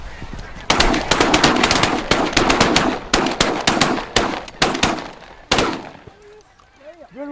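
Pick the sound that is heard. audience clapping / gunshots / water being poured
gunshots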